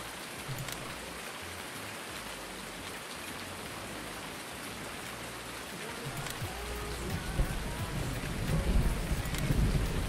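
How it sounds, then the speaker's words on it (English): Steady heavy rain pours through a thunderstorm in Farming Simulator 19, a dense hiss with low thunder rumbling in and building louder toward the end, no talk over it. "I love the thunder. Sounds so good."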